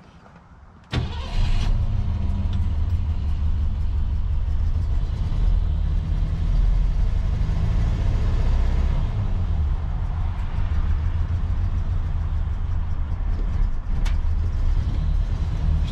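A 1967 Ford Galaxie 500 with a 289 V8 fires up after a short crank, then settles into a steady, close, low-pitched idle that runs on evenly.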